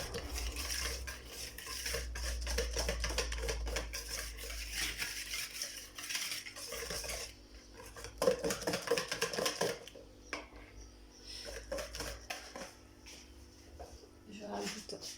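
A spoon scrapes and clinks around a bowl of chocolate cake batter, rapid uneven stirring that fades partway through, with someone talking over it in French.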